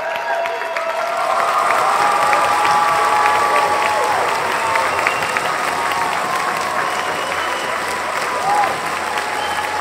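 A big audience claps warmly and continuously, a dense wash of applause with a few cheers and voices rising through it, holding steady for the whole stretch.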